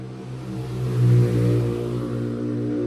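Motorcycle engines pass outside during a math lesson, a steady mid-pitched drone that swells to a peak about a second in and then holds, moderately loud with no talk over it.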